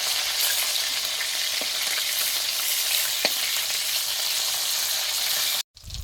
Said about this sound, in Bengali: একদম সুন্দরভাবে ভাজতে হবে মাছটা,